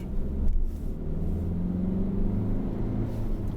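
A Jeep Renegade 1.6 Multijet diesel with a manual gearbox pulls under steady load, giving a low, continuous engine drone and rumble heard from inside the cabin, with no talk.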